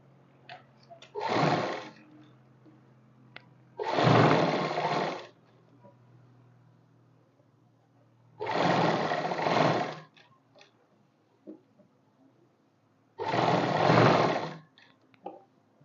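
A sewing machine runs in four separate bursts of steady stitching, each about a second long, with short pauses between them while a finishing seam is sewn along a kurti neckline.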